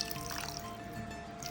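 Water pours into a pressure cooker holding chicken, a soft continuous trickling splash heard up close and fairly quiet for about a second and a half.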